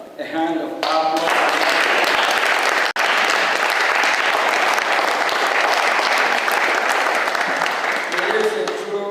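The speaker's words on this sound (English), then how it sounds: "Please, can we give a hand of applause?" Loud, sustained applause from an audience at a congressional briefing in Washington DC's Capitol, with steady clapping filling the room for about nine seconds, briefly cut once, with voices mixed in.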